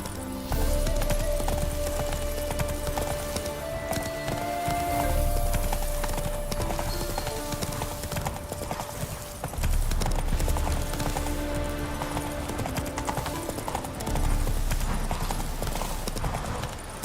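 Roach, a horse in The Witcher 3: Wild Hunt's Heart of Stone expansion, gallops with steady, rhythmic hoof clip-clops over a continuous game soundscape, loud and close throughout.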